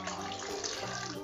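Water streams steadily out of a hippo-and-submarine bath toy into a tub, a soft continuous splashing pour that stays even from start to finish.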